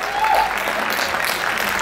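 Audience applause at a Pune mushaira poetry gathering, a steady, dense wash of clapping from a crowd in a hall, loud and continuous for the whole short stretch with no voices on top.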